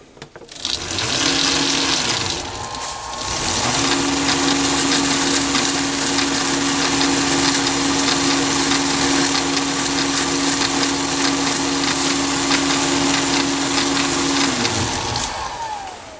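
A Chinese mini lathe runs at a steady speed while a freshly cut thread is deburred, giving a loud, constant motor hum with a high whine that starts up, holds, then winds down.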